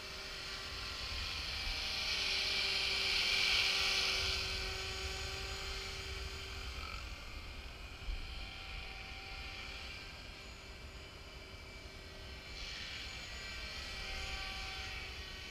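A Trex 450 RC helicopter wearing an EC-135 fuselage whines overhead, its rotor and motor tones swelling as it passes closer and fading as it moves off, faint and distant throughout.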